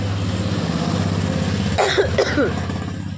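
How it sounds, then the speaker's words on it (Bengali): A couple of short, harsh coughs from a person with a cold burst out over a steady low engine-like hum on a foggy day, close to the microphone. "একটু ঠান্ডা লেগে গেছে তো, সরি, কাশি হচ্ছে।"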